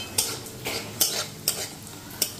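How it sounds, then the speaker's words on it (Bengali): A whole fish frying crisp in a pan, with loud utensil scrapes and stirring clatters recurring about every half second over a soft sizzle, close by and without talk. "এই যে মাছ ভাজা হয়ে গেল, কড়া করে, গোটা করে মাছ ভাজবো"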